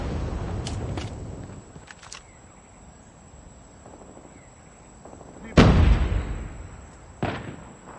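A grenade going off in the Call of Duty Mobile video game, a single sharp, heavy blast near the end, with a smaller burst shortly after and scattered gunfire and quieter battle noise before it.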